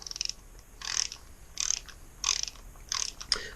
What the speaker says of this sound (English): so now we can get our 8mm socket back out and get this seated right in there perfectly